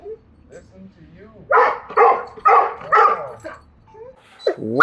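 A golden retriever barks several times in a loud, close series of rhythmic woofs, with some softer whines and yips before and a sharp yelp at the end.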